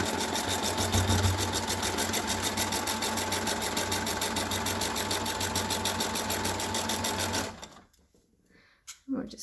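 A sewing machine back stitches a chair cushion cover, a loud, fast, rhythmic mechanical whir running steadily, then stopping abruptly near the end, followed by a brief handling sound.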